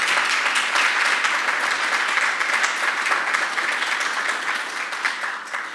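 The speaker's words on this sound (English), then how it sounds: "with a big round of applause from everyone here today." An audience at a JP Morgan Chase summer youth employment event in Newark applauds steadily and loudly, a dense wash of clapping that holds throughout and eases off slightly near the end.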